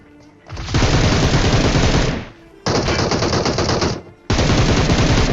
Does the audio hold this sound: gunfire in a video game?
yes